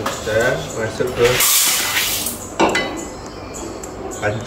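Dried red kidney beans tip into a cooking pot in a home kitchen for making sweet red bean paste, giving a brief rattling clatter against the metal. A voice speaks just before it.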